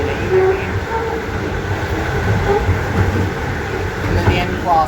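A Melbourne train runs near Dandenong, a loud continuous rumble with screeching wheel tones and clattering, while people talk beneath it.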